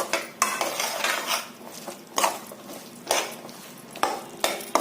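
A spoon scrapes and clinks in a pan as fried ladgi sweets are stirred into a coating mixture. The strokes come in repeated rhythmic sweeps, close and moderately loud, with no talk.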